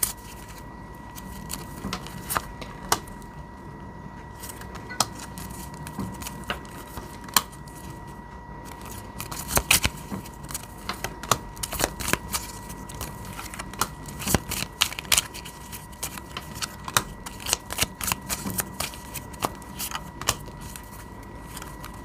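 Oracle cards are handled and shuffled steadily in a run of close, papery flicks and slaps. A constant low hum and noisy room tone sit underneath.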